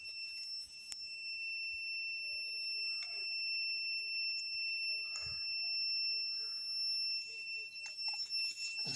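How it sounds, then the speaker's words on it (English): A satellite-dish signal tracking device emits a continuous high-pitched electronic tone, fairly faint and steady, with occasional soft clicks and rustles from handling around it. "You can hear the beeping of my tracking device."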